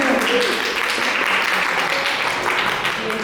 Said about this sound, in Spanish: Alfredo, un aplauso para Alfredo